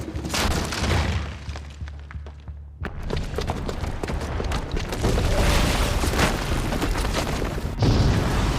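A bomb blows up inside the palace in Horizon Zero Dawn with a loud, sustained booming rumble and crashing debris, dropping briefly before a second heavy blast that rolls on to the end.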